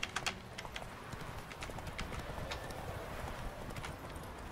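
Horse hooves clip-clop in The Witcher 3 video game, a quick steady trot of soft hoofbeats heard at moderate distance, with game ambience and light clicking faintly underneath.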